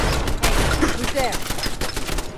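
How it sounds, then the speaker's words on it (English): Automated turret gunfire in Fallout 4 with the Sim Settlements 2 mod, raking raiders who duck behind couches: a rapid, sharp, repeated burst of shots, loud and close, with other game sounds mixed in. "I like that the turret blasts them and they're trying to hide behind the couches"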